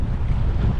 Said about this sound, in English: Currently in this crazy wind.